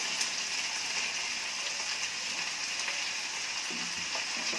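Steady, continuous sizzle of brinjal pieces dropped into potatoes frying in oil, an even hiss with faint stirring near the end and no talk.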